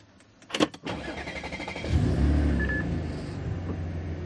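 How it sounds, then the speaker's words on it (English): An Audi S4 engine with a new intake and new plugs cranks with a few sharp clicks, then catches and settles into a steady low idle rumble. "first start with the new intake and the new plugs"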